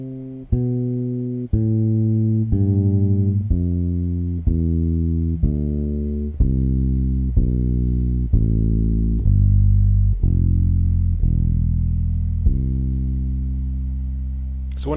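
Guitar played note by note up a scale and back down in a beginner lesson, each plucked note ringing clearly in a steady, even rhythm, close and alone without talk.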